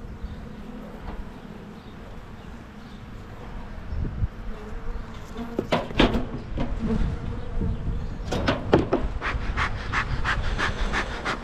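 Honey bees buzzing around an opened hive during a windy inspection, a steady restless drone that grows busier toward the end, with a few dull knocks and bumps.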